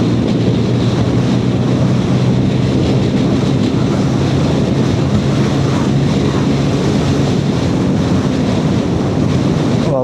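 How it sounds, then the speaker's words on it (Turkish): A Hero Dash scooter coasting downhill with the throttle closed, heard as constant loud wind rush and road roar buffeting the microphone, with no distinct engine note. "Şöyle bir kapattım, tapa gaz yaptım. Yokuş aşağı gidiyoruz."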